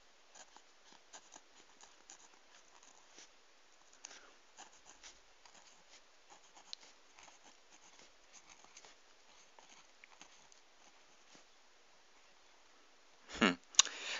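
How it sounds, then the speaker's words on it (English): A fountain pen scratches across paper in faint, irregular strokes, a soft continuous rasp close to the microphone, ending with a louder handling noise. "It does feel a bit rough when writing. I don't know if you can hear that."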